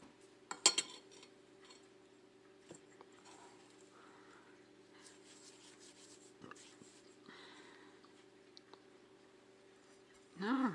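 Two pork chops are turned in a pan. A few faint metal clinks and scrapes of a utensil against the pan come over a quiet background, with a louder clatter at the end.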